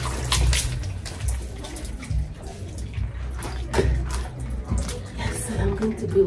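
Water splashing and sloshing as legs and feet are scrubbed during an outdoor wash in the Ugandan countryside, steady and close with irregular splashes throughout.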